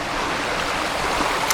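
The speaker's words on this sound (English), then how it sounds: "Here is the Julka shower system." A Joolca portable shower system running outdoors on an offroad trip in Alaska, giving a short, steady hiss of spraying water, even and close, with no voices.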